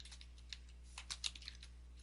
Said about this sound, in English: But I could type in here how to configure